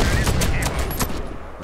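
Rapid bursts of gunfire in the shooter game Warface, a RPK machine gun among them, crackling in quick repeated volleys with a faint voice underneath.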